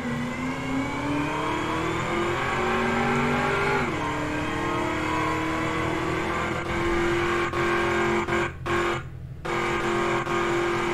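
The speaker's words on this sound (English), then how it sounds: "my car's struggling to pull." A car engine in a video game drones steadily under load, its pitch rising slowly as it strains to pull, with a brief dip partway through and a couple of sudden cutouts near the end, continuous and fairly loud.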